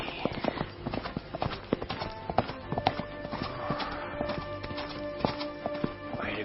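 Horse hooves clip-clop at a steady walking pace on dry ground, a buckskin horse moving through a dry wash, with rhythmic distinct thuds and faint background rustle.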